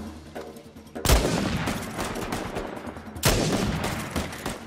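Two loud, sharp sniper rifle shots ring out in Uncharted 4, roughly two seconds apart, each with a sudden crack followed by a long rolling echo that slowly fades away.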